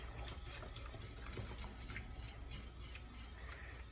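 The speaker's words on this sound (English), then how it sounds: "we'll go ahead and add 2 more cups of that stock. And another good whisk here" Whisk stirring stock into a thick shrimp and potato stew in a pot, a steady soft liquid swishing and scraping that runs continuously and fairly quiet.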